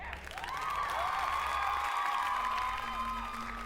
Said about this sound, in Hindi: तभी अचानक से तालियों की गड़गड़ाहट से ऑडिटोरियम गूंज उठा।